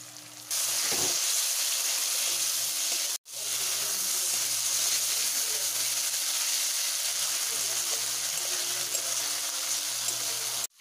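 Chopped capsicum and green chilli sizzling in hot oil with onion and tomato in a pan, a steady loud frying hiss throughout with a brief break midway.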